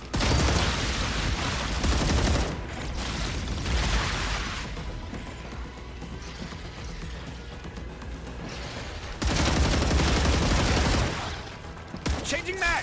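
Gunfire in the game StarRupture, heard as sustained, dense bursts of rapid shots that rise and fall over several seconds, loud and close, with voices talking underneath.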